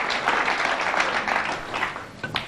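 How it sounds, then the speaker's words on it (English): Clapping from the snooker arena crowd after a 1999 men's semi-final between Quentin Hann and Yannick Beaufils, steady at first, then thinning and fading toward the end. "The applause is starting."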